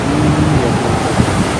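Large ocean waves break on the shore at Balekambang beach near Pulau Hanoman, Malang, East Java, making a loud, continuous roar of surf with some wind noise on the microphone.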